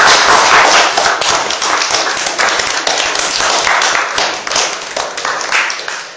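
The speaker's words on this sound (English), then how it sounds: "would our audience members just like to give our panel a round of applause" A school sociology debate audience gives the panel a round of applause, a close, dense burst of clapping that starts loud and slowly thins out over several seconds.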